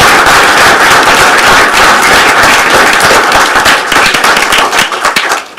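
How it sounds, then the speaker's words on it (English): Loud, dense applause from the audience at a school district board meeting honouring students, a steady close-up wash of many hands clapping that thins out slightly near the end. "Can I get one more round of applause for those students?"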